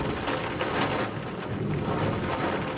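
Steady, dense rain pours down during a thunderstorm, heard from indoors near a window, with a low rumble of thunder running beneath the constant hiss.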